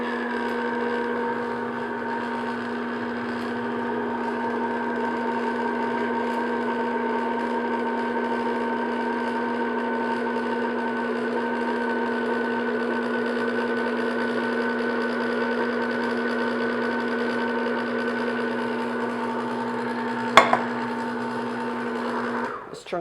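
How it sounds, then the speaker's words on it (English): Electric mixer on low speed beating sugar syrup into a marshmallow mixture for peanut butter bars, a steady humming motor drone held at an even level close by, with a brief clink near the end. "Have your mixer on low speed here."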